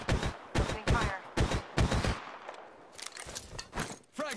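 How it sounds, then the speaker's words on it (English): Video game gunfire in a Mirage match: rapid bursts of shots in distinct clusters for the first two seconds, then lighter, scattered firing and clatter, close and loud. "Making contact with enemy. Opening fire."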